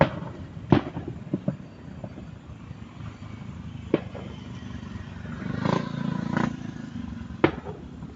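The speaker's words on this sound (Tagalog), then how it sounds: "Yan ang Palo Alto fireworks sa barangay ko yan." Barangay fiesta fireworks in Palo Alto pop and boom at a distance, several sharp separate bursts spread over a steady outdoor rumble.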